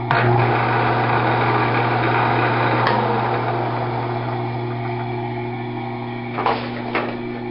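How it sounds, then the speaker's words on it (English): Lathe running off a homemade three-phase rotary converter, a steady electric motor hum with a bright mechanical whine, close and constant, plus a couple of brief knocks near the end. "Turn the safety switch on, and I can run the lathe."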